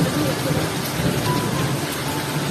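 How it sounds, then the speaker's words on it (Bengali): Heavy rain pouring outside during the monsoon season, a dense continuous hiss and patter close by, with no other clear sounds. "বাইরে আবার বৃষ্টি শুরু হয়েছে"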